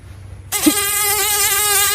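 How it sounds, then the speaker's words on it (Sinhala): Flies buzzing loudly and steadily close by, a sustained droning whine that starts abruptly and continues without pause, with no talk. "මැස්සෝ"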